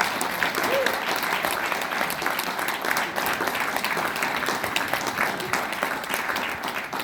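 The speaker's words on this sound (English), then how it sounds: "Let's have another round of applause for Michael." Sustained audience applause following a summer lecture, a dense steady wash of many hands clapping at even loudness throughout, with no speech over it.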